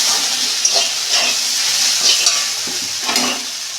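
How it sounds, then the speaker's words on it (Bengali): Okra frying in a pan over a low gas flame, a steady soft sizzle broken by a few scraping stirs, close and continuous with no talk. "আমি গ্যাসের ফ্লেমটা আস্তে করে দিয়ে ভাজবো এটা"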